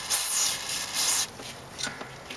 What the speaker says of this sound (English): spray a little bit of lubricant on there